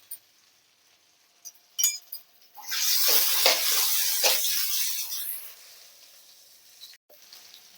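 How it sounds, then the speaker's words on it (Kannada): Onion drops into hot oil for millet mushroom fried rice and bursts into a loud, close sizzle that steadily fades, after a few light clinks of utensils. "ಫಸ್ಟ್ ನಾನು ಆನಿಯನ್ನ ಹಾಕೋತಾ ಇದ್ದೀನಿ"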